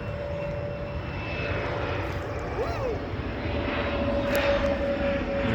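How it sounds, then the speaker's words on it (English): A low-flying jet aircraft passes overhead outdoors on a nature walk, a steady broad engine roar that holds throughout at constant loudness, with no clear rise or fade. "Look, a jet. Wow. That's flying really close to the ground."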